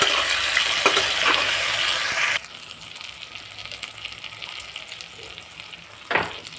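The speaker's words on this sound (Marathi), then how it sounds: "छान आपलं मटेरियल वांग्याचं आता फ्राय झालं आहे" Brinjal frying in a pan with ground masala paste for a green chilli brinjal curry, a loud steady sizzle that drops abruptly to a quieter crackle partway through, with a brief stir near the end.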